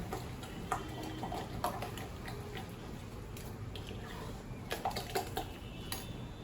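Handvo batter being mixed with turmeric and red chili powder, a spoon scraping and clinking against a bowl in quiet, irregular taps that come close together at a few moments.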